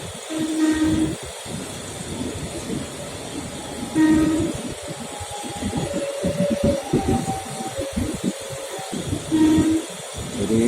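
An electric KRL Commuterline commuter train in Jakarta runs with rumbling and clattering, while short tonal horn-like beeps recur about every four to five seconds.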